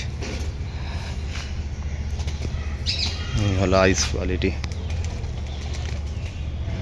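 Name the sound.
Pakistani pigeons flapping wings in loft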